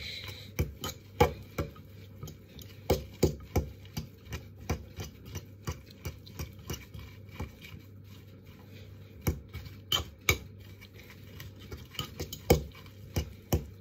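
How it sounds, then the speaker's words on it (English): A spoon stirs mayonnaise into chopped onion and mashed potato for a homemade potato and ham salad, making soft squelching with a steady run of sharp clicks and taps against the bowl, close up and with no talking. "And then you want to mix it in with your onion and mashed potato."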